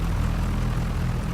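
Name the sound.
aircraft engine running in a flight simulator video game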